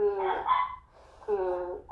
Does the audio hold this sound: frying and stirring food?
no